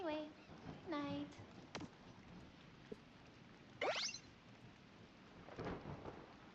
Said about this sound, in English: I love the sound the rain makes when it's falling on the roof.